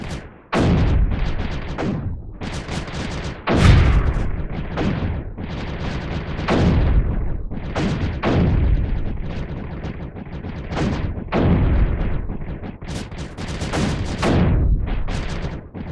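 Repeated booming cannon shots fire in the strategy video game Creeper World 3, loud, dense bursts arriving every second or so in an uneven rhythm across the whole stretch, with no voices over them.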